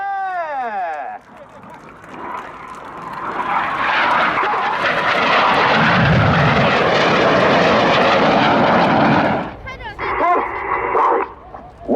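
Red Arrows synchro pair jets roar past in an aerobatic display at the Yeovilton air day, a loud rising-and-falling pass that swells to a deep peak midway, framed by a commentator's voice and crowd noise.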